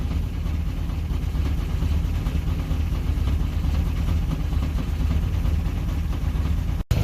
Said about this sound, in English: I got the Toyota running right now. You might be able to hear that in the background.